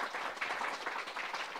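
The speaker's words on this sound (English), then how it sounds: "can you please give them a round of applause?" A round of applause from guests at a child advocacy dinner discussion, a fairly quiet, dense patter of clapping with uneven swells, heard alone.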